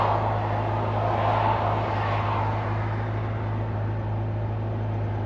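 A Pontiac GTO engine idles smoothly and steadily after a year off the road, a continuous low rumble with a broad airy wash on top that holds an even, unbroken level throughout.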